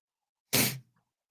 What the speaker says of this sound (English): For some reason, I'm having a sneezing fit. It's allergies.